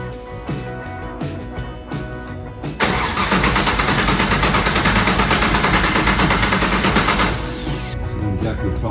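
A Chevrolet Chevelle under restoration cranks briefly in stuttering bursts, then catches and fires into a loud, steady running engine that holds for several seconds before easing slightly, with no talk over it.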